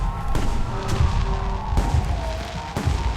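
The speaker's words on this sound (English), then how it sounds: "The noise from those fireworks should cover the sound of gunfire." Fireworks bursting in the Alpha Protocol video game, a steady run of loud booms and crackles with sharp bursts recurring about every second, set over a continuous low rumble.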